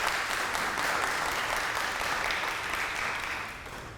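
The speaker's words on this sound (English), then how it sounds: "Can we have a round of applause for Pat" Audience in a lecture setting gives a round of applause for Pat, dense steady clapping that tapers slightly toward the end.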